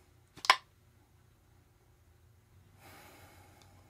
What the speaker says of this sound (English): Let's give this a sniff.